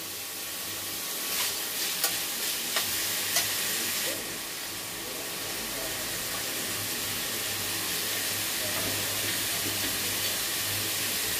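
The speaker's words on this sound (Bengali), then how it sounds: "পেঁয়াজগুলো ভাজা ভাজা হয়ে যাবে।" Finely chopped onions sizzle and crackle steadily in a hot pan, with a few sharp stirring clicks early on before the fry settles into a continuous hiss with no voices.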